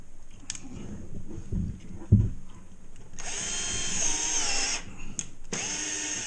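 A power drill drives screws through metal corner bead into drywall around an attic scuttle hole, with two loud whirring bursts, a longer one, then a short one after a brief pause, over quiet room noise.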